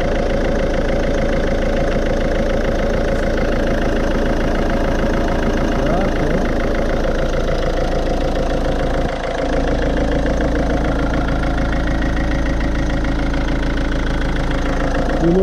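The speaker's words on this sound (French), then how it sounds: "on vient de démarrer le moteur à l'instant" Ford C-Max 1.6 TDCI diesel engine idling just after a cold start following radiator refitting, a steady, loud, even rattle with a faint voice briefly audible near the end.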